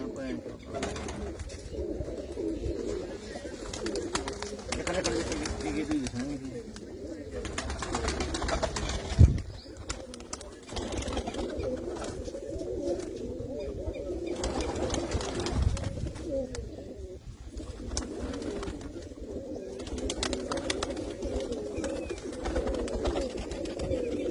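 Pet pigeons at a sarpanch's home coo softly and repeatedly, with occasional faint wing flaps and voices talking in the background throughout.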